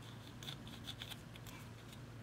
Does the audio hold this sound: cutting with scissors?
yes